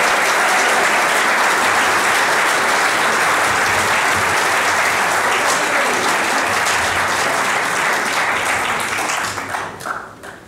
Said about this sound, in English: How about a round of applause for the bass player,